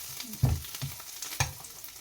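Mushrooms stir-fry in a pan, a continuous sizzle punctuated by a few louder scrapes and tosses of the spatula.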